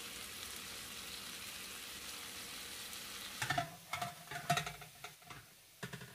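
Lamb chops sizzle in a pan over medium heat, a steady hiss joined later by sharper crackles and scraping stirs from close by, with no speech.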